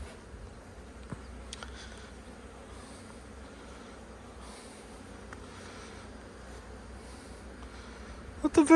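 Honey bees buzz steadily during an anti-swarm hive inspection, a continuous low drone throughout with a few brief knocks and a louder handling noise at the end.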